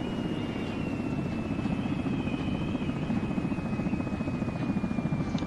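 A helicopter in the video game Arma gives a loud, steady rotor thrum with a rapid chopping pulse and a high whine, continuous throughout with no talking.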